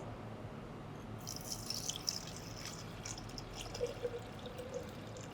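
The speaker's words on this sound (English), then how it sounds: "Let's fill this with water." Water trickles and drips into a glass J tube during a thermal physics lab setup, a soft, continuous pouring with light splashy detail, heard alone without talk.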